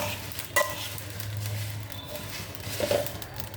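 Spices roasting in a pan for a masala chilli powder give a faint, steady crackle, broken by a couple of brief scraping stirs.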